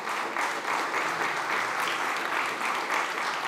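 A seated audience at an All Things Food session at SXSW gives a round of applause. The clapping is steady and even, thick and moderately distant, and it holds without pause for a few seconds.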